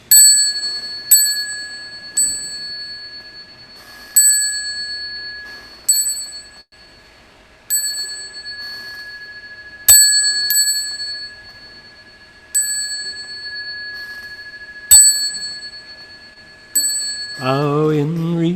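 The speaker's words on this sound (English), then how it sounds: "I've got a bell" A small hand bell at the Berkeley Buddhist Monastery rings out clearly about a dozen times at an even, unhurried pace during bowing, each strike ringing on and fading before the next, with a voice starting up right at the end.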